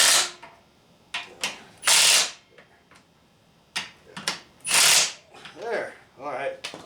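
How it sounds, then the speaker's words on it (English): A Milwaukee impact gun tightens a bolt on a GM 9.5 14-bolt rear axle during a brake rebuild, firing several loud, close bursts of rattling hammering separated by short pauses. "these Milwaukee impact guns have a lot of power, so each ugga-dugga is quite a bit"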